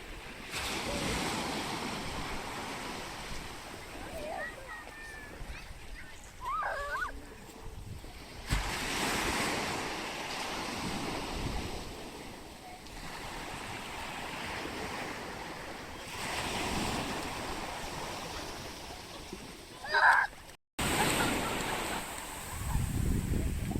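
Sea waves wash onto the shore at Bray, Ireland, in slow recurring surges under steady wind buffeting the microphone, with a brief faint bird call near the end.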